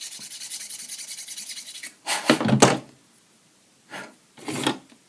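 A putty-filled part is worked with a coarse file, a continuous close rasping followed by a few separate short strokes with gaps between them, no talking.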